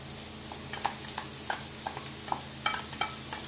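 Garlic and saltfish fry in a pan for ackee and saltfish, a soft steady sizzle broken by light scraping stirs of a utensil against the pan.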